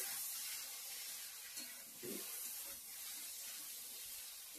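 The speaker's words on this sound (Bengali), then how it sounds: "জল অ্যাড করবো এখন।" Water is poured into a pan of frying potatoes and spices, giving a faint, steady hiss and sizzle with soft splashing, close but quiet.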